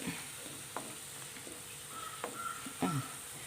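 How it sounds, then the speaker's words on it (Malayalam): A cup of vinegar simmers in a pan with a faint, steady bubbling sizzle, broken by a few soft clinks as it is stirred. "വിനാഗിരിയൊക്കെ തിളച്ചിട്ടുണ്ട്"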